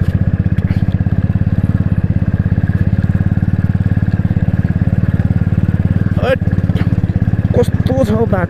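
A motorcycle engine drones steadily and loudly up close while the bike rides on a steep, slippery mountain road in Taplejung near Suketar, with people talking over the engine near the end.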